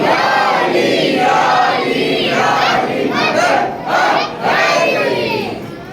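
A large majlis crowd gathered for Muharram roars the Nara-e-Haidari chant in unison, a sustained, loud collective shout rising and falling in waves over several seconds.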